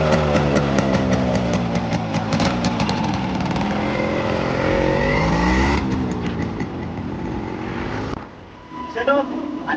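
A Yamaha RX100 two-stroke motorcycle rides along a road, its engine droning steadily with shifting revs and a brief drop near the end.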